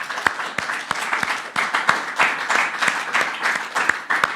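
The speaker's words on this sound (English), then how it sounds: "let's give her another round of applause" Audience at a church service gives a round of applause, lively uneven clapping with sharp individual claps throughout, fairly loud and close, no speech.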